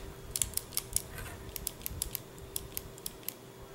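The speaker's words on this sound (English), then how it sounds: "See, I was checking for that click." Sharp, quiet clicks from the safety selector of an Ares G36 airsoft gun, a dozen or so small snaps in quick irregular succession, close up with no talk.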